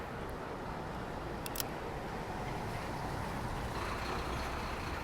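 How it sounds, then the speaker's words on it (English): A lorry's low engine rumble and road noise run steadily on a street, fairly faint and distant, with a brief clicking sound partway through. "And that lorry to get out of the way."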